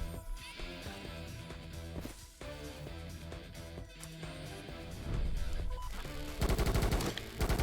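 Rapid gunfire bursts from the shooter game Kinki Spiritual Affairs Bureau during a boss battle, crackling over a dense, busy game soundtrack and growing louder and more frantic toward the end.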